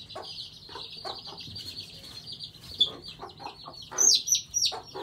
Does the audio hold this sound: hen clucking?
yes